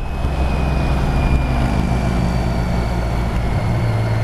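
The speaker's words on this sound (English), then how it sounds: "Love the engine braking on this bike." BMW K75 motorcycle engine braking on a Derbyshire countryside road, a steady close drone of the engine with wind rush, slowly lowering in pitch as the bike slows, no talk.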